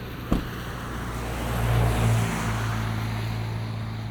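A 2026 Jeep Cherokee turbo hybrid left idling: a low, steady engine hum under broad wind-like noise, with a single sharp knock near the start and a brief rise in rumble midway.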